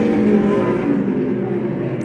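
Race cars in a Grand National Super Series race at Dominion Raceway produce a steady, loud engine roar and whine of a pack running together at a distance, holding level without a break.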